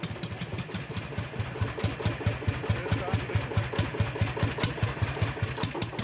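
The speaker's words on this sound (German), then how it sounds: "Ausgerechnet jetzt fahren sie den alten Lanz warm." An old Lanz tractor warms up at an agricultural fair, its engine thudding in a steady, loping idle that runs loud and near throughout, with the rhythmic beat clear against the background.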